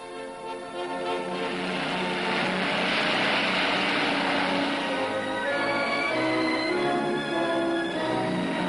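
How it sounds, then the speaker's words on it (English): Steady drone of a propeller aircraft engine during the Berlin Airlift, loud and continuous, holding a constant pitch throughout. "Every available plane was pressed into service to carry food and the necessities of life into the blockaded city."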